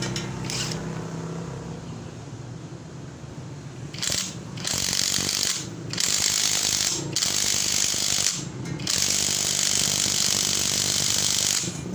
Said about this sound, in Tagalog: At higpitan na natin.